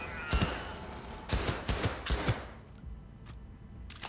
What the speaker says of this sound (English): Just straight up shooting him in the elbow